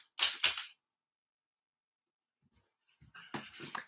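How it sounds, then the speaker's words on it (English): A dog gives two quick, sharp puffs of panting, then goes quiet before a cluster of whiny whimpers and breathy pants, close to the microphone. "that's my dog doing what he damn well pleases"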